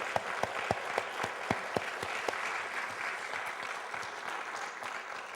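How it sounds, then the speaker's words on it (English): Cinema audience applause at the Valhalla Cinema in Sydney, sustained clapping with a few sharp nearby claps standing out early before it settles into an even, fairly quiet patter. "A big round of applause."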